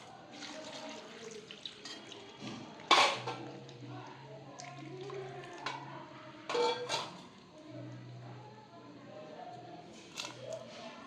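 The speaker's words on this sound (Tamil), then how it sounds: "இப்போது சவுச்சவை அலசி போடுறேன்" Water runs and splashes in short bursts as chayote is rinsed, with dishes clinking and a low hum underneath.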